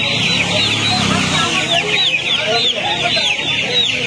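Chickens cluck and chatter loudly and constantly at a busy poultry market in Uluberia, Howrah, while people talk nearby.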